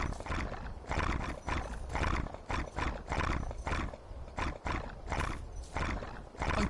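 A night steed, a horse creature in a video game, snorts, whinnies and clip-clops in a loud, continuous run of bursts that fills the whole stretch close by.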